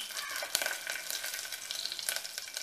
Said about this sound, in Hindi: अब मैं करी पत्ता और मिर्च डाल दे रही हूँ।